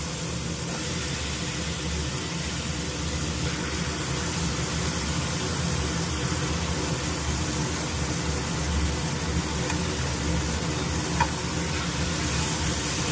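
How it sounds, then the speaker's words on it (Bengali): Mutton sizzles in a pan of gravy with ginger garlic paste, giving a steady, close, broadband frying hiss that stays even the whole time, with no voices over it. "গ্রেভি হয়ে যাওয়ার পর আমি এর মধ্যে এখন মটনগুলো তুলে দেবো।"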